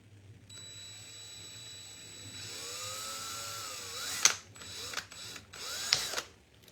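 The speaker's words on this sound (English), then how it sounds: "We drill through it and then back out." A small power drill whines up, bites and grinds through plastic dollar-store items with a few sharp clicks and bursts, then stops.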